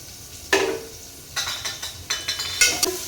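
Chopped onion with curry leaves sautéing in a pan for a soya chunks curry, with a series of scraping stirs and soft sizzling bursts close by, repeating every half second or so.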